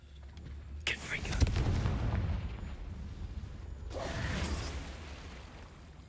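Confringo spell blasts in Hogwarts Legacy, two booming bursts a few seconds apart, each rising sharply and then rumbling and fading, with a voice speaking faintly underneath.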